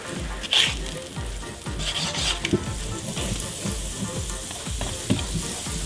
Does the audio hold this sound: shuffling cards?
no